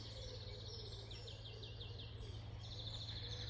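A greenfinch twitters in a countryside glade near trees and cow parsley, a series of quick repeated chirping notes rising and falling over a low steady background hum, faint and somewhat distant.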